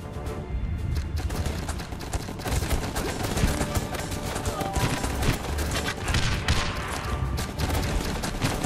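Dense, continuous gunfire and volleys of shots crackle through a battle in the game Guns Up!, with overlapping bursts and scattered impacts filling the whole stretch at steady loudness.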